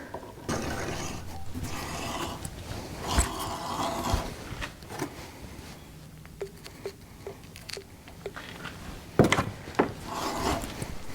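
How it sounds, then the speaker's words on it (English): A wire brush scrubs the cap of a Farmall 140 cultivator arm with clean threads, making rough scraping bursts early on and then sparser scratches and clicks, close by, with no speech. "it's not going to hurt it to wire brush it with some clean threads"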